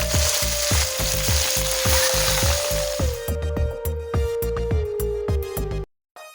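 Tanjliya greens tossed into a pan of frying garlic give a loud, steady sizzle with a series of rhythmic scraping stirs, then the sound cuts off abruptly near the end.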